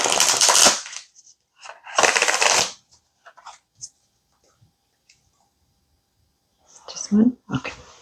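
A deck of cards being shuffled for a tarot-style reading: two loud riffling bursts, scattered soft card taps and slides, then a final shuffle with a few clacks, close by and without speech.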